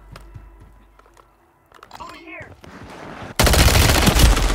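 Sustained rapid automatic fire from an ISO 9mm submachine gun in Call of Duty: Warzone bursts in loud and close after quieter scattered clicks and movement sounds, while someone speaks.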